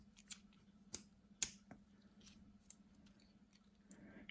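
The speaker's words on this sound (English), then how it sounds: "Rose gold steel folding scissors, 10 centimeters in size." A few sharp, isolated snips of small 10-centimetre rose gold steel folding scissors, faint and close, spaced apart over a low background hum.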